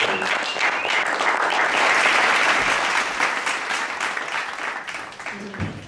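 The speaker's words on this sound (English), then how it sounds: "A round of applause for the butler." An audience applauds the butler at a live soap opera performance, a dense burst of clapping that swells and then gradually thins out.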